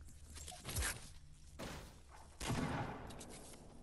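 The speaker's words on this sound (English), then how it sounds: "Who just shot that shotgun shell?" Shotgun blasts in the video game Fortnite, a couple of sharp booming shots with a broadband burst and tail, spaced a second or so apart amid game ambience.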